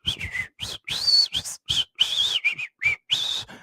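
A person whistles in short, uneven tuneless bursts, imitating an empty head, with choppy breathy notes and brief gaps between them, close and fairly loud.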